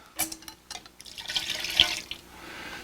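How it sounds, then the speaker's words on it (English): Homemade vanilla poured straight into a baking mix with chocolate chips and M&M powder. A few light knocks come first, then a soft, close liquid trickle rises and fades over a couple of seconds. "And the vanilla we're just going to pour right in."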